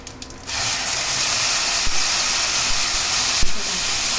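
Cumin seeds sizzle in hot cooking oil in a pan, a steady close hiss that starts abruptly after a brief quieter moment and holds at an even level, with a couple of small pops.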